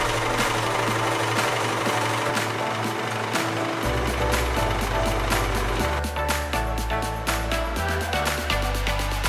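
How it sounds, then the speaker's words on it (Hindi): A sewing machine runs steadily as it stitches around the edges of a cushion cover, with a loud, continuous mechanical whir and rapid needle chatter that shifts pace at a few points. "उसके बाद जैसे नॉर्मल हम कुशन बनाते हैं, सारी सिलाई इसमें चारों तरफ कर लेंगे"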